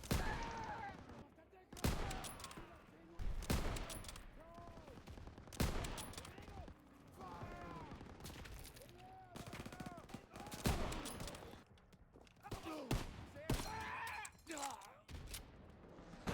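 Gunfire in the World War II shooter Call of Duty WW2, with rapid sharp shots and bursts scattered across the scene among groans and other game noise, moderately loud against a busy background.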